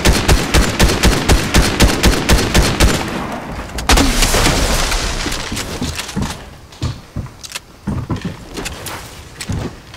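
Rapid bursts of automatic gunfire in Fortnite, loud and close, with steady repeated shots at first, then scattered single cracks and impacts trailing off.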